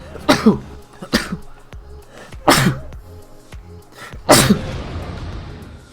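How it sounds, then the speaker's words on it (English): A burst of four loud sneezes, spaced unevenly over several seconds, with the last one longest and trailing off into a breathy exhale. "as I have a sneeze attack"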